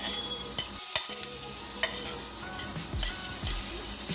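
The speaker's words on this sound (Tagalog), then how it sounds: "Kapag mainit na ang ating oil, ilagay na natin ang ating bawang." Garlic sizzles and crackles in hot oil in a pan while being stirred, with steady frying hiss and occasional scraping knocks from the utensil, close and fairly quiet.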